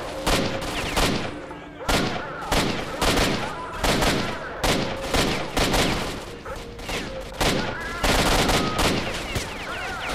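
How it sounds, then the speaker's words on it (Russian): Rapid gunfire from a sawn-off shotgun in the video game S.T.A.L.K.E.R.: Shadow of Chernobyl, loud close blasts repeating in quick irregular bursts with several overlapping shots and a brief pause near two seconds. "Да зачем ты с обреза стреляешь?"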